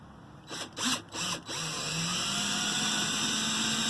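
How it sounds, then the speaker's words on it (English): A power drill whirs in a few short starts, then settles into a steady high whine as it bores into a plastic gas can, close by. "So we're going to take and drill."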